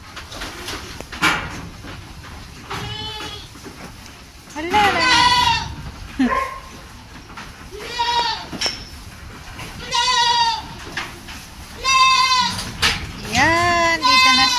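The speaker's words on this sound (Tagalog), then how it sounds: "So, kakain na sila ang ating mga kambing." Goats on a farm bleat again and again while feeding on green grass, loud nearby calls coming in repeated bursts with short gaps, over light rustling.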